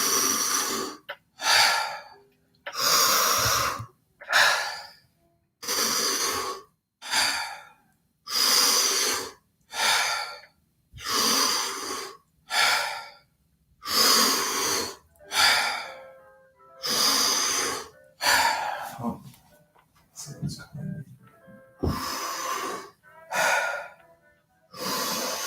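Wim Hof method deep breathing, fully in and letting go, as a steady series of loud, forceful, close breaths in a regular rhythm, around twenty cycles with brief pauses.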